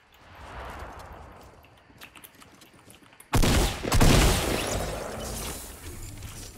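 Gunfire in a Fortnite Battle Royale match: a quiet stretch of scattered distant shots, then a sudden loud, dense burst of close firing that keeps up to the end.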